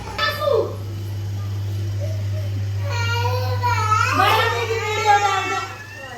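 A young girl cries indoors, her wavering, sobbing wails rising in two stretches over a steady electrical hum.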